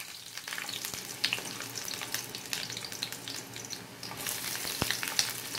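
Onion sizzles and crackles in hot oil in a pan as the first step of a tomato chutney, a continuous bright frying hiss with occasional stirring scrapes, heard close and alone.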